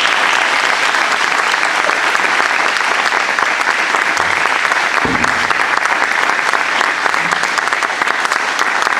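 Audience applause for a performer at a tribute concert of songs by his friends, steady and dense clapping filling the room without a break, loud and close throughout.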